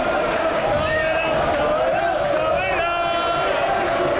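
A football crowd chanting at a Stockport County match during the 1990/91 season, a sustained, tonal roar of voices from the stands with a commentator talking over it.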